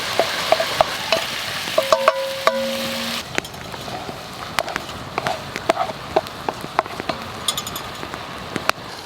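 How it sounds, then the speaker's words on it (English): Minced beef fries in a pan at a festive woodland camp during a Christmas outdoor cook. The sizzle is steady and close, broken by scattered clicks and scrapes of stirring, with no talk. "So I'm just going to get that fried off first."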